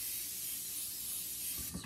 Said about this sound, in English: Spray it good because eggs tend to stick.